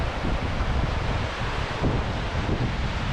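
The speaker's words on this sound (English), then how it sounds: "There's a lot of water flowing through here." Water rushes steadily below the Loch Lee dam in Scotland, a dense continuous roar with heavy wind buffeting the microphone outdoors.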